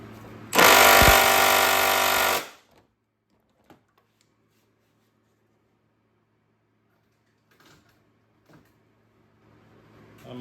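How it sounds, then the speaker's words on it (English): A half-inch stubby impact wrench hammers on a car, one loud harsh burst of about two seconds, followed by faint clinks and small handling noises in near silence. "Let's try the 1/2 inch stubby impact."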